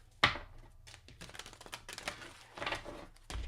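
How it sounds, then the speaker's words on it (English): Tarot cards shuffled by hand in a quiet room, a few short papery riffles and soft slaps spread over a few seconds, fairly close and alone with no talking. "We'll do one more shuffle."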